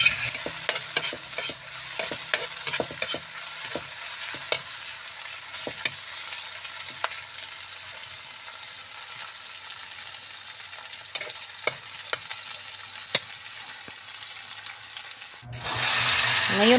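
Garlic, onion and tomato sautéing in a pan give a steady close sizzle, broken by frequent clicks and scrapes of a stirring utensil, then a brief splash of running water near the end.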